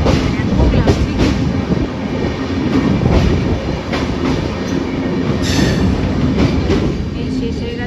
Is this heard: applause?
no